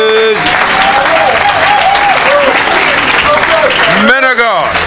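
A church congregation claps loudly and steadily in acclaim of Jesus during an evangelistic service, with voices shouting and calling out over the dense, continuous applause.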